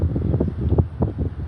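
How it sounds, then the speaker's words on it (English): Wind buffets an outdoor microphone as a steady low rumbling roar with gusty surges, close and loud throughout the short stretch, with no talk. "that wind is killing me"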